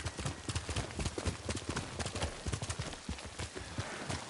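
Horse hooves clip-clop in a fast, steady gallop rhythm in the video game Ghost of Tsushima, close and continuous with no clear whinny, over a low background bed.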